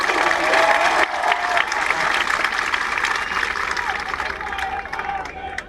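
An audience at a political speech claps and cheers to honour a guest, producing dense, sustained applause with crowd murmur underneath that fades slightly toward the end.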